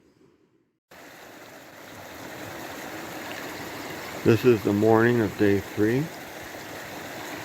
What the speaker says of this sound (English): This is Racehorse Creek camp area. That's a nice little creek.